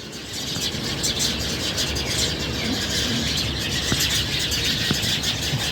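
Busy chirping of sparrows, steady and fairly close, with a faint hum of traffic or outdoor noise underneath.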